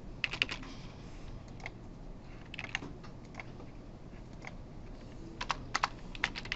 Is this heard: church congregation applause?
no